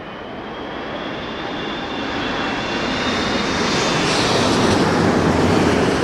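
An airliner's engines roar at London Heathrow during Storm Darragh, a broad, steady rumble that slowly grows louder across the whole stretch, with no voices over it.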